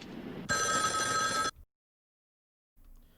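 Telephone ringing in the 1974 horror film Black Christmas, set in a house where girls receive obscene calls: a loud, bright electric bell ring lasting about a second, then silence before faint background sound returns.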